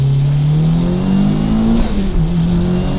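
A Mitsubishi Evo's small-turbo four-cylinder pulls hard in second gear, its engine note climbing steadily in pitch. It is loud and close, shifts briefly near the end, and no one talks.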